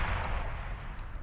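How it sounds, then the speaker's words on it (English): Heavy cannon fire in the Beyond All Reason strategy game, from a long-range plasma cannon: a dense, low booming burst filling the moment, loud and rumbling without speech. "Long-range plasma cannon detected."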